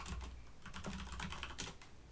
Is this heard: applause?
no